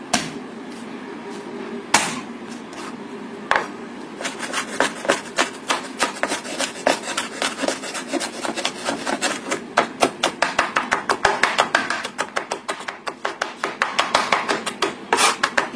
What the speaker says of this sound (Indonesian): Kemudian di sini kita siapkan 3 siung bawang putih. Ini kita cincang halus supaya rasanya itu lebih menyerap.